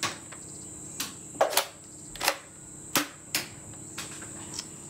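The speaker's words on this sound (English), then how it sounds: "Just pull the trigger to fire." A 9mm-style toy shotgun fires several sharp, snappy shots at irregular intervals, each a brief crack, over a faint steady hiss in the background.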